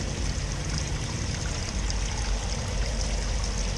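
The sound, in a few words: coolant flowing out of Corrado VR6 thermostat housing during flush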